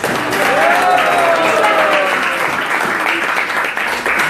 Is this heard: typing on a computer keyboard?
no